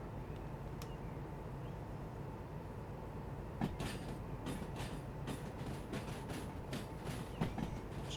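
A locomotive in the train game Derail Valley rolls into a shed, a low steady rumble with a string of sharp metallic clicks and clacks in the second half, fairly quiet overall.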